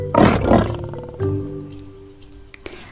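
A lion gives two loud, deep roaring bursts close up, followed by a quieter, fading tail.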